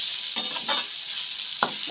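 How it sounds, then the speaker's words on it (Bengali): Chopped large onion frying in mustard oil in a wok, with a steady loud sizzle and a few stirring scrapes breaking through it. "ওই কড়াইয়ের মধ্যে সর্ষের তেল দিয়ে দিলাম। দিয়ে দিচ্ছি একটা বড় সাইজের পেঁয়াজ কুচি করে"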